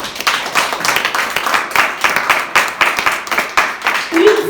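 A church congregation claps and applauds to acclaim the Lord, a dense, steady patter of many hands close by, with a voice rising briefly near the end.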